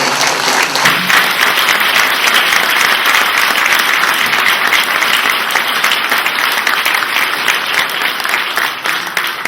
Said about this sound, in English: please give a huge round of applause for everyone who volunteered for the Ribbon March